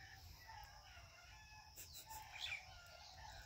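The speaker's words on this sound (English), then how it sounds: "fucking roosters" Roosters crow faintly in the distance behind a farmyard where ducks and other fowl are also kept, brief calls rising over a steady low rumble of background noise.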